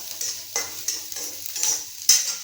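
Onions frying in a pan and being stirred until light brown: a bright hiss of sizzling broken by about six sharp, close scraping stirs at an uneven pace, loud and alone without any voice.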